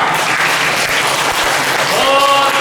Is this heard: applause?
yes